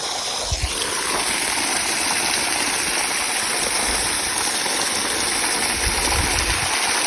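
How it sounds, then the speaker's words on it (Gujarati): Steady rushing water pouring continuously into a village well, a loud, even gush like a stream falling into a deep space, with no voices. "હા પાણી ચાલુ રહ્યું જો"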